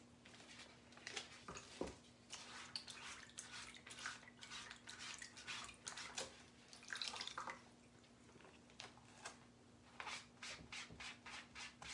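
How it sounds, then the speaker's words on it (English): Water washes a transfer off a DIY craft piece in uneven bursts of splashing and rubbing, fairly faint and close, over a low steady hum. "Let's wash this transfer off"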